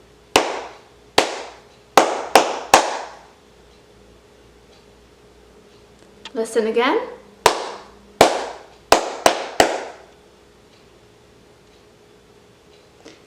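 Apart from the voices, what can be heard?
clapped rhythm pattern for students to echo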